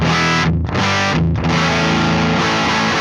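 Thick, fuzzy distorted guitar chord through a Mesa Boogie Mark IIC+ amp with bass maxed, ringing loud with heavy low end, strummed a couple of times and sustaining.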